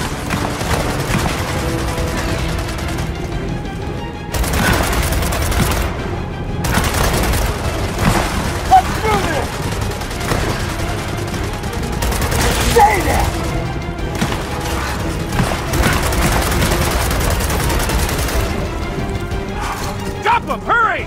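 Gunfire in the video game Gears of War 4 during a base assault, with repeated sharp bursts and booms spread through a dense, loud battle mix under constant speech.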